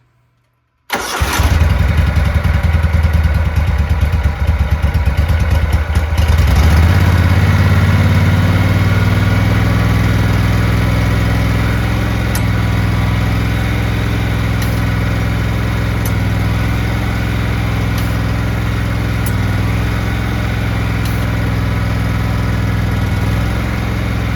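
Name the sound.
lawn mower engine running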